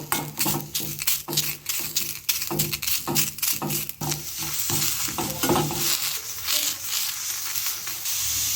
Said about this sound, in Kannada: ಒಂದು ಅರ್ಧ ಚಮಚ ಜೀರಿಗೆ ಇದನ್ನು ಸ್ವಲ್ಪ ಚೆನ್ನಾಗಿ ಹುರ್ಕೋಬೇಕು